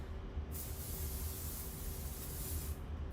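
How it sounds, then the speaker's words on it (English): A spray can mists the back of a crafting piece in one steady hiss of about two seconds, close and alone with no talk. "I'm going to spray the back of the other one too while we're at it."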